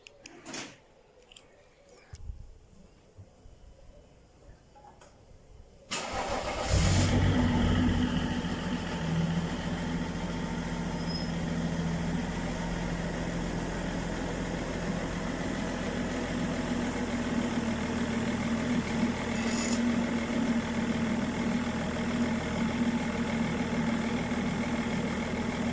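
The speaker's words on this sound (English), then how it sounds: "let's get a cold start and then I'll show you the car." A 2001 BMW E39 530d diesel with M Sport package cold-starts after a few quiet seconds of clicks, firing up abruptly and settling into a loud, steady idle that holds for the rest of the clip.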